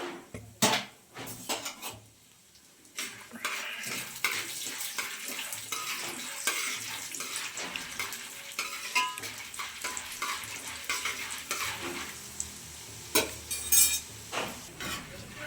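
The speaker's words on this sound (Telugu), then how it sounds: "ఫస్ట్ ఏమో అటుకులు పుట్నాలు వేయించుకోవాలా." Flattened rice and roasted gram being fried and stirred in a pan, with steady sizzling under frequent scraping and clinking of a utensil against the metal, up close and with no talk.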